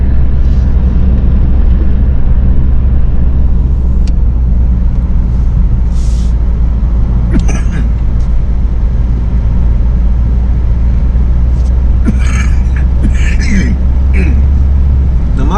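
A car rolls along a countryside road in Alabama, its low steady engine and tyre rumble filling the cabin, with brief rattles and higher clicks now and then.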